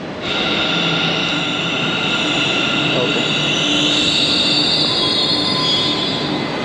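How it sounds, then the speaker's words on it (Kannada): A metro train rumbles loudly and steadily close by, with a high metallic whine of wheels running through the constant noise. "ಮೆಟ್ರೋ ಟ್ರೈನ್ ಹತ್ತಾ ಇದ್ದೀನಿ ಇವಾಗ"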